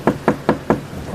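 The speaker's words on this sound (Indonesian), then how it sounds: "Suara ketukan rumah terus terdengar di telinga kami semua." Four firm knocks strike a house door at an even, unhurried pace, close and distinct, followed by a quieter stretch with faint tapping.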